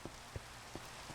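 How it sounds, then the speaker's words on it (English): Rain patters faintly in a Minecraft world, a soft steady hiss with a few scattered drop taps, no voices. "we can get rid of this rain, I think, now."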